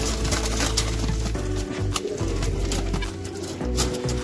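Racing pigeons at a home sale setting, soft cooing close by over a constant low background hum, with no talk.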